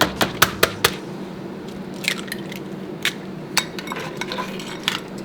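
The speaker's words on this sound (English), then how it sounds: "We're gonna crack our eggs." Eggs cracked one after another against a hard edge and dropped into a bowl, a quick run of sharp clicks followed by softer taps and small squishy sounds, close up with no talking.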